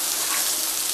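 Cajun pork sausage and boudin browning in a pan give off a steady, dense sizzle with fine crackling pops, close and continuous with no talking.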